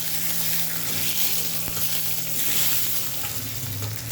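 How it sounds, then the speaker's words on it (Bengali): Black mustard seeds tempering in hot oil, then mango pieces frying for a sour mango dish, a steady close crackling sizzle throughout with a faint tap partway, no voices. "এই যে কালো সরিষা হ্যাঁ ফোড়ন দিয়ে দিয়েছে তারপরে আম দিয়েছে আমের টক"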